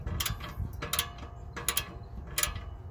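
A wrench works on the fastener of a BMW exhaust tip while a carbon fiber tip is fitted, giving about five short metallic ratcheting clicks in close, evenly spaced bursts.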